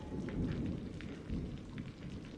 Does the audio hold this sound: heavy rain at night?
yes